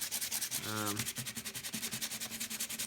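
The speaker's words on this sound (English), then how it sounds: "Sometimes it's not perfectly flush on the bottom, so you just want to sand" Silver pendant's bottom face rubbed on 220 and 400 grit sandpaper, a steady run of rhythmic close scratching strokes, about six to eight per second, with a brief tonal squeak early on.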